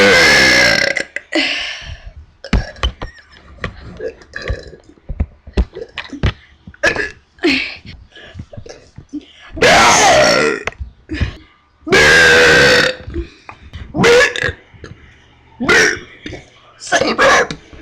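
Loud, long burps repeat close to the mic in irregular bursts, some drawn out and croaking, with brief gaps and occasional voices in between.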